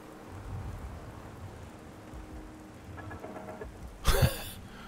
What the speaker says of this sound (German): Ja, es regnet halt. Es ist halt Novemberwetter.